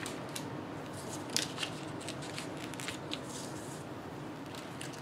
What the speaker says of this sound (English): I'm going to do one cut down this way with my rotary cutter